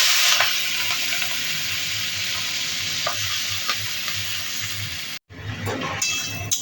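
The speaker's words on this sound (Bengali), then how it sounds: "কড়াইতে তেল গরম হয়ে গেছে, এতে আমি চিংড়ি মাছগুলো আগে ভেজে তুলে নেব" Prawns fry in hot oil in a kadai, a steady loud sizzle with occasional stirring clinks, continuous until a brief break near the end.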